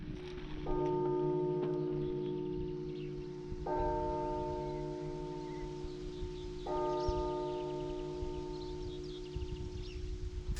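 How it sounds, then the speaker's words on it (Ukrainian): An electronic bell strikes the hour in the old town of Myropil, Ukraine, with three ringing tones spaced about three seconds apart. Each tone sustains and decays over a steady low hum and faint outdoor background. "Щогодини лунає електронний дзвін. Скільки годин, стільки ударів."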